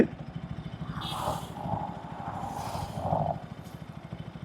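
A 160cc sport motorcycle engine in second gear idles with a steady low rhythmic pulse, rising in a few short revving swells before settling back.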